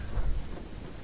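Storm with rain and low thunder rumbling in a battle royale video game, a steady wash of rain under a deep rolling boom over about a second.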